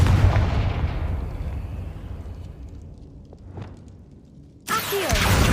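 A Confringo blasting spell in the Hogwarts Legacy video game lands with a heavy booming explosion whose rumble slowly fades over several seconds, followed by a second sharp, loud burst near the end.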